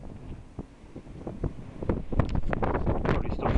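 Wind in Bluff, New Zealand buffets a microphone in gusty rumbles that build and grow louder, with rustling and bursts of blowing noise throughout.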